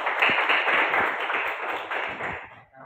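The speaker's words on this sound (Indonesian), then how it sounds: "Oke, tepuk tangan dulu." A class of schoolchildren claps hands together in a classroom, a dense, steady burst of many small hands lasting a few seconds before stopping abruptly.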